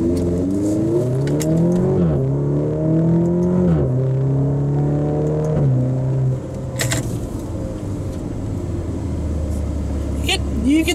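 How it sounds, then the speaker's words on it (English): A 2023 Maserati Grecale GT SUV engine revs up through rising gear pulls, its exhaust droning loud and close, then settles into a steady low rumble. "I'm just not a big fan of the exhaust note that comes out of it."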